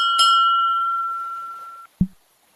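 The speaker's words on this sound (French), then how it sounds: "Sonnez une nouvelle fois la cloche pour passer à l'assemblage du pont." A shipyard bell rung in the video game Navalia gives one bright, clear strike that rings on and fades slowly, followed by a short dull thud.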